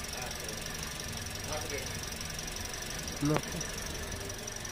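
Cracked engine idling roughly with an uneven, knocking rhythm, a steady broadband drone throughout and a brief louder squeal-like burst near the end, with a short spoken interjection over it.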